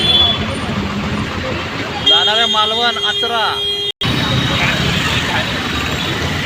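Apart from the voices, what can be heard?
convoy of state transport buses on the road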